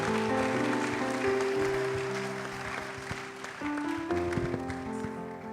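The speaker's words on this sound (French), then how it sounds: "Mais ce sont des acclamations adressées à un homme." Church congregation applauding and cheering during a Sunday service, a continuous wash of clapping under sustained sung or held tones, moderately distant and steady throughout.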